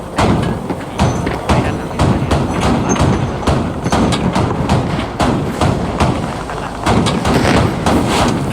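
Repeated heavy cannon fire from a Bradley M2A3 fighting vehicle in the game Squad, loud close thumping bursts in a steady rapid rhythm that continues throughout.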